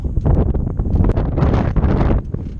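A wind gust buffets the microphone aboard a sailing boat, a loud, rough, continuous rumble with choppy bursts.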